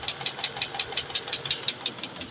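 A 2011 Dodge Durango 5.7 V8 with a noisy engine in need of a top overhaul knocks steadily, a regular tapping beat repeating several times a second over a low idle, heard close and alone.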